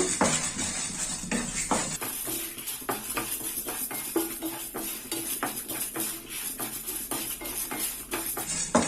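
Cumin, black pepper, dried red chilies and cinnamon dry roasting in a pan on low heat, with repeated metal spoon scrapes and clinks against the pan over a soft background hiss.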